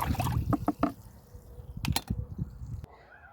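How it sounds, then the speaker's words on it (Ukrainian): Water pours and trickles into a container of hydrangea fertilizer in short splashy bursts, followed by a brief steadier stream, close up. "зараз ще водички"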